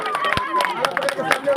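Welcoming applause from a group at a wedding gathering: scattered, moderately loud claps blend with overlapping chatter and a speaking voice.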